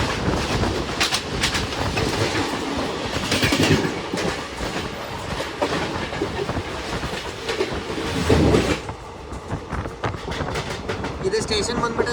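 Gol Gumbaz Express hauled by a WDP4 diesel locomotive passes close by, a loud, steady rumble of rolling coaches with rhythmic clickety-clack of wheels over rail joints throughout.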